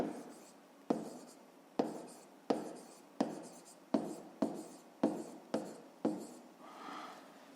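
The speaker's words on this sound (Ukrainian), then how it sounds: "Записуємо за умовою." Pen strokes on paper while writing out a fifth-grade math exercise, about nine quick, evenly spaced scratches close to the microphone, quiet and alone.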